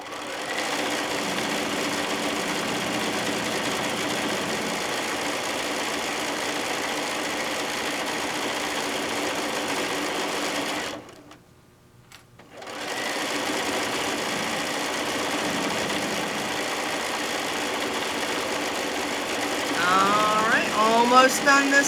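A sewing machine stitches the long sides of a fat-quarter Tabitha Jane bag, running in a steady continuous whir that stops briefly midway, then resumes.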